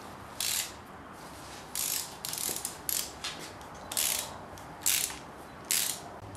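Ratchet undoing the bolts on the supercharger of a Pontiac Fiero with a 3800 engine, swapped in for a lower intake gasket job: about seven short ratcheting bursts, close and fairly quiet, with pauses between and no talk.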